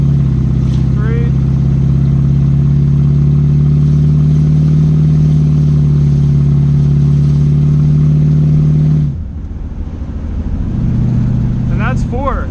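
A 1985 C4 Corvette running open headers drones loud and close with a strong low exhaust tone for about nine seconds, then the note drops abruptly as it shifts and settles lower, with people talking over it.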